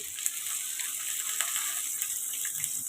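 Drumstick pieces sizzling in hot oil with ginger garlic paste for a drumstick tomato curry, a steady bright crackling hiss with small pops, close and fairly quiet, no voices.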